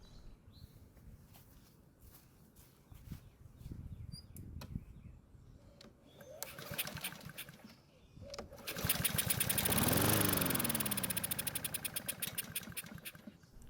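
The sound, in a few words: Honda lawn mower engine starting and running briefly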